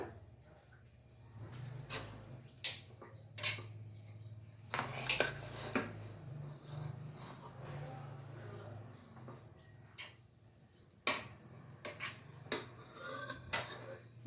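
A spoon scrapes and clinks against a pot while tomato bath rice is stirred, with irregular soft knocks and a few sharper metallic taps over a low hum, quiet and close.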